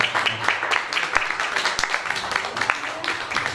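Steady clapping from an audience at a school function, a dense patter of hands that carries on throughout without a break, with voices mixed in underneath.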